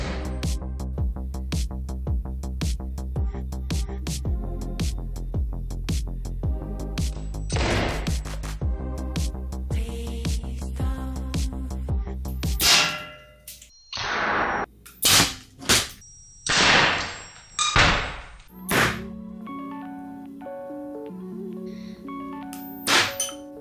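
A mini desktop combustion cannon firing ice with a chilled barrel. Steady rhythmic backing music fills the first half, then several sharp, loud pops and cracks follow at uneven intervals, each with a short ringing tail.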